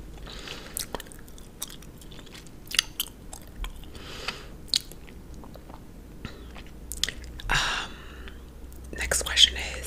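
Close, moist chewing of gum with soft smacks and crunches, mixed with quiet whispering in an intimate, near-microphone setting.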